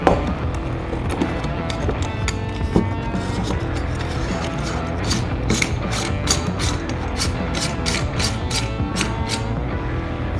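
Metal parts being threaded onto an AR-15 lower receiver make a steady run of small mechanical clicks and ratcheting ticks close up, with a busier stretch of rapid clicks midway.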